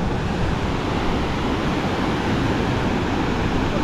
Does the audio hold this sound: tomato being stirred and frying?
no